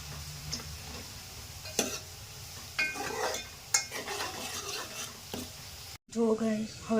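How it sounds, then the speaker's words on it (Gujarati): Kadhi being stirred in a pot, with soft scraping and clinking strokes at an unhurried pace under a quiet kitchen background, closing on a brief louder burst. "હવે ધીરે ધીરે આને હલાવતા રહેવાનું છે આપણે."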